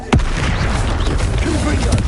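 An Expelliarmus spell in Hogwarts Legacy lands with a sudden sharp crack followed by a rumbling, whooshing boom that lingers loudly for a couple of seconds amid ongoing combat noise.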